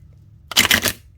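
A quick burst of crisp, riffling tarot card shuffling, loud and close, lasting about half a second after a quiet start.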